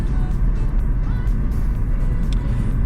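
A Renault Megane 1.9 dCi 130 hp diesel engine idles with a low, steady rumble, close and continuous throughout.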